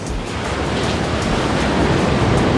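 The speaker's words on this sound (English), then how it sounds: "That's how the ocean looks like at our place. Like a lot of rainwater, a little bit of waves." Ocean waves wash in steadily during a rainy stretch of weather, a dense, continuous roar of surf that swells slightly louder toward the end, with no voices.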